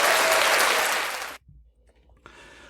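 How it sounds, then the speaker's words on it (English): Crowd applause at a biker community podcast event, loud dense clapping for over a second that cuts off abruptly, followed by quiet and a brief return of fainter clapping. "So you guys all get a big round of applause."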